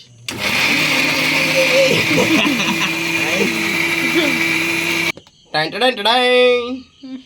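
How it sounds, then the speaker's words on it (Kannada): A kitchen mixer grinder whirs loudly and steadily for about five seconds blending pizza sauce, then cuts off as a voice speaks briefly. "then mixie ಎತ್ಕೊಳ್ಳಿ"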